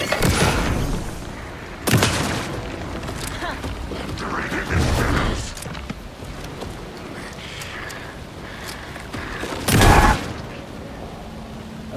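Shotgun blasts in the survival horror game Alan Wake 2, a few heavy booming shots spaced several seconds apart over a low rumbling ambient bed, with a person talking at moments between them.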